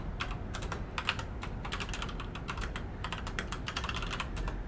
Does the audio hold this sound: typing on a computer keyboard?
yes